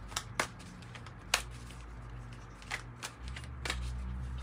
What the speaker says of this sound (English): I'm shuffling these so much.